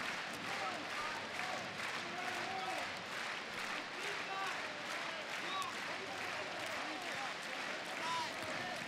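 A large indoor handball arena crowd at the 2014 EHF Euro, Austria vs Spain, roars and claps continuously at a distance, a steady wash of cheering with a commentator talking over it.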